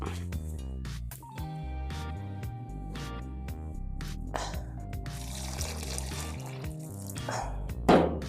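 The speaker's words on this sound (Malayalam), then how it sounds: "വെള്ളം ഒഴിച്ചു കൊടുക്കാം." Water pours into a pressure cooker of cooked rice after the stove is switched off, a few seconds of rushing splash heard under steady background music.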